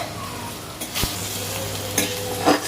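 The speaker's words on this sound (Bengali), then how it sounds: "পেঁয়াজ কাটা পেঁয়াজ দেওয়া হলো লঙ্কা সব কিছু দিয়ে" Chopped onion and green chili fry in a pan with a soft, continuous sizzle, broken by a few stirring scrapes and clinks of a utensil.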